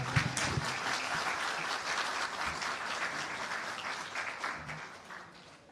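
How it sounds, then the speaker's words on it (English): Applause from an audience at a ministry stakeholder workshop, a dense patter of many hands clapping steadily at moderate distance, gradually thinning and fading toward the end. "You can clap him more than that, a little bit more than that."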